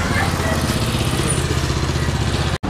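A second-hand motorcycle engine runs at a used bike dealership in Nepal, a steady, close mid-pitched rumble that continues for under three seconds and is briefly cut at the end.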